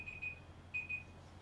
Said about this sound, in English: Here goes the timer.